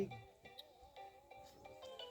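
A mobile phone rings with a repeating melodic ringtone during a village gathering in Jharkhand. Bright tonal phrases recur steadily for about two seconds at moderate volume, with no talking over them.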